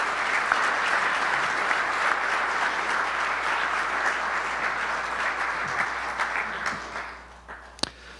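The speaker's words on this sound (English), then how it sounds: "Let's give one more round of applause to all of our presenters." An audience at a physical therapy research forum gives a sustained round of applause for the presenters, dense steady clapping that tapers off near the end with a few final claps.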